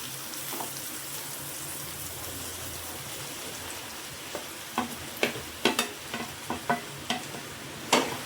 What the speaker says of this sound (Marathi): मशरूम पण आपण चांगले परतून घेणार आहोत.